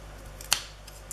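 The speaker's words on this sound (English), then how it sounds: "I've got these scissors. They're from Stampin' Up." Stampin' Up craft scissors handled on a tabletop give two quick, crisp metallic snips a moment apart, faint and close against a steady low hum.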